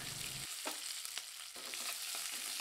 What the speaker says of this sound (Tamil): 1/2 டீஸ்பூன் கடுகு, கடுகு பொரியது